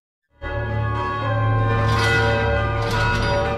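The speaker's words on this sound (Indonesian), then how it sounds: "Lonceng dibunyikan di semua penjuru kota." Alarm bells ring out across a city in an anime, a large resonant bell striking in after a brief silence and then sustaining a rich, ringing tone with further strokes layered on top.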